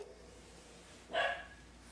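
A startled dog lets out a single sharp bark, close and fairly loud, against a quiet background.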